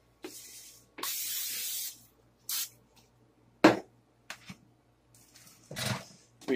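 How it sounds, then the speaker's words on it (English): Several short hissing bursts of aerosol cooking spray onto a pan, some brief and some longer, separated by quiet pauses. "First, I'm going to put a little bit of spray on it."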